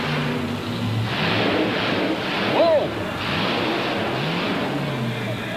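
A lightweight Chevy monster truck from Illinois revs and launches on a timed qualifying run at a 1990 USHRA Mud & Monster Series event in Orlando, a steady loud engine drone under crowd noise with a brief surge midway.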